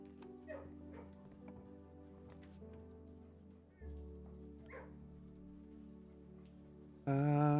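Dogs in a kennel in the video game Blue Prince give several short barks, yips and whimpers over a steady background of game music, with a louder musical swell at the end.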